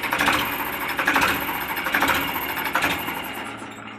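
A Ford 3600 tractor's diesel engine runs steadily after a timing adjustment, a close, loud mechanical clatter with a fast, even rhythm and periodic surges, with no voices.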